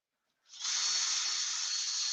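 Axminster 508 lathe, a 3-horsepower machine, spinning a wooden root ball; a steady, loud whirring hiss that starts abruptly and holds constant and close throughout, with no talking.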